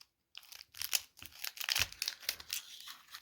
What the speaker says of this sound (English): Cut this thing open with the scissors.